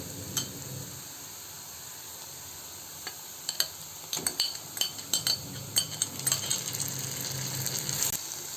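Onions browned to golden in a pan with ginger-garlic paste and tomato added, for a sandgyachi bhaji, frying with a low steady sizzle under scattered sharp spoon-and-pan clinks that grow busier toward the end, no voices.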